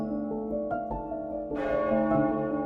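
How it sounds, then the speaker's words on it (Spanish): Cathedral church bells ringing at midnight, a sustained, resonant peal with overlapping tones and a fresh strike swelling the sound midway, steady and fairly loud. "apenas advertí las campanadas de medianoche en la catedral repiqueteando"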